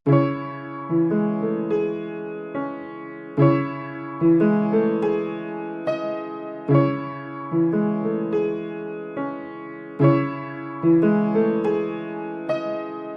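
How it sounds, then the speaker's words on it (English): Dry piano playing a repeating chordal phrase with steady, evenly spaced note attacks, clear and fairly loud, no voices. "this is what the piano sounds like without any effects once again"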